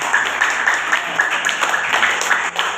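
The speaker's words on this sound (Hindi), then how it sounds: "ताली मिल के बजाओ बढ़िया से।" An audience claps in rhythm along to a song, producing a steady, loud, even beat of hand claps mixed with the music.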